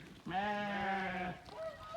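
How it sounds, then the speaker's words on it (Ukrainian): A sheep bleats once on a farm with weaned lambs and young ewes penned apart, a long clear wavering call lasting about a second, close and loud, followed by a fainter second bleat. "Годи як мекають"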